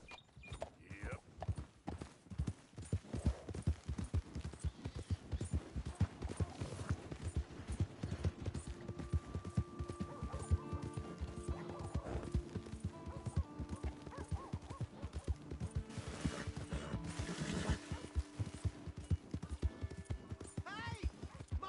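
Horse hooves clip-clop in a steady, rapid rhythm in Red Dead Redemption 2, with creaks and other game sounds mixed in.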